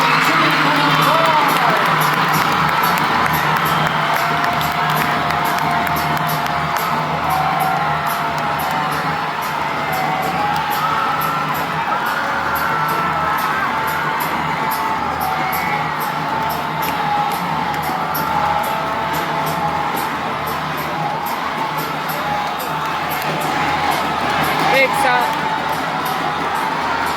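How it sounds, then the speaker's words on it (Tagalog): Festival crowd at the Kadayawan Festival in Davao cheering and shouting, a steady, loud wall of voices and whoops that keeps going throughout, with an announcer's voice over it. "crowd is going wild"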